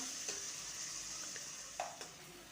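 Onions soften in a pan for pav bhaji with a low, steady sizzle, and a few brief spatula scrapes and stirring knocks stand out over it. Nobody speaks.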